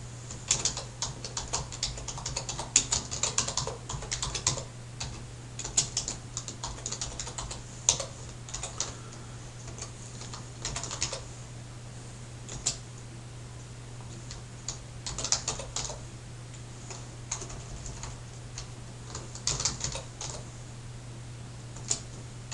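Typing on a computer keyboard while entering supplier details, steady bursts of close, light key clicks with brief pauses, over a constant low electrical hum, with no speech.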